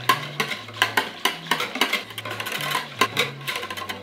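A spoon stirs coquito, a Puerto Rican coconut eggnog mixture, in a container, giving quick rhythmic clinks and scrapes about twice a second, close and fairly loud, with no voices.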